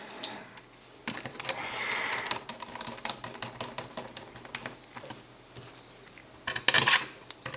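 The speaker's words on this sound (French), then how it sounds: "il ne me reste plus qu'à refixer les longues vis" Long screws are refastened on the case of a Gigabyte Brix S mini PC, producing close, irregular clicks and scrapes of a small screwdriver and metal parts, with a louder clatter near the end.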